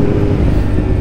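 Motorcycles passing during Laconia Bike Week ride a continuous, loud, close engine rumble with dense traffic-like roar and no pauses.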